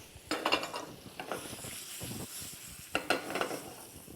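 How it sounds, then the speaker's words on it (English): Peaches sizzling in very hot olive oil in a pan, bright crackling bursts at the start and again near the end, with quieter frying and a few utensil scrapes between. "Again, olive oil, very hot. Peaches into the pan."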